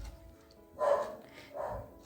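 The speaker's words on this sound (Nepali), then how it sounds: "मेरो कुकुर पनि तपाईँहरूको कुरा सुन्दैछ।" A dog barks twice in fairly close succession indoors, two short moderately loud barks with a quieter gap between them and no talking over them.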